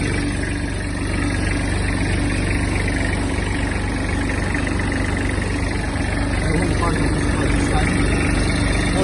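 A Kubota GB-15 Japanese mini tractor's warmed-up diesel engine idles with a steady low drone and vibration throughout, never changing pace.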